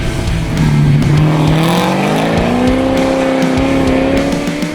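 A 1994 Nissan 180SX with a swapped Holden LS1 V8 drifts on tarmac at a rally sprint, its engine roaring loud and close and climbing in pitch, with tire squeal mixed in.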